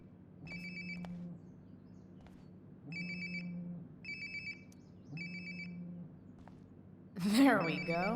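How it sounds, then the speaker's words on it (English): A phone rings in Life is Strange: Before the Storm with four repeated electronic trills separated by short gaps, fairly quiet against a soft background, and a voice follows briefly at the end. "Sounds like my phone is definitely nearby."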